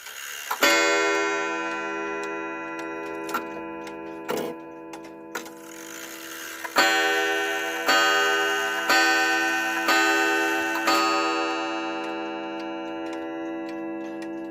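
A 1970s Korean 31-day wall clock with a coiled gong behind the pendulum strikes loud, ringing gong tones that sustain and decay between blows, alongside sharp mechanical ticks and clicks, close and clear in a quiet room.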